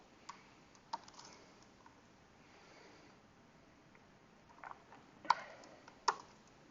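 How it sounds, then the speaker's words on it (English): Faint, sparse clicks of keys being typed on a computer keyboard in a quiet lecture setting, a few scattered taps and one short burst, with no talking. "It helps if one knows how to type."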